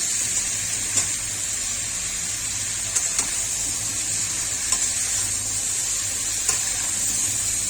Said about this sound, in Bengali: এবার বেগুনগুলো ছেড়ে দিচ্ছি।